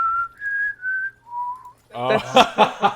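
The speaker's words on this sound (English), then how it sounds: "let's go with a whistle" A person whistles a few sustained, rising and falling tones, then a short burst of voices breaks in near the end.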